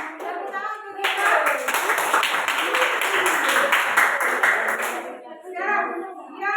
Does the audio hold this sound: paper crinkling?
no